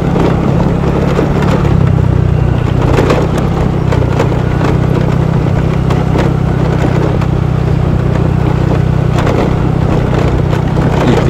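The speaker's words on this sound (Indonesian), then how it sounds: "Itu dia tadi guys, mobil BPBD." A BPBD Aceh Singkil vehicle passes on a hard, rough dirt road with a steady engine drone, crunching and rattling gravel and tire noise, loud and close throughout, no voices.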